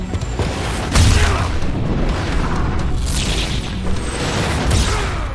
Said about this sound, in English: The house eventually explodes